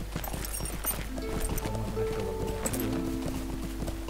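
Horse hooves clip-clop in the online game LOTRO, a steady rhythmic trotting over a dense bed of game ambience and music, with no clear talk.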